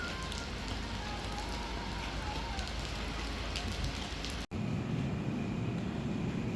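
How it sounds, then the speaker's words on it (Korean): Heavy rain pours steadily outside a mart in the evening, a dense continuous hiss of drops on surfaces, briefly cut off for a moment before resuming, with no talking. "비가 많이 오네요."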